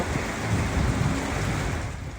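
Roaring Super Typhoon Pepito wind with driving rain in Baguio City, a dense, continuous rush of noise buffeting close by.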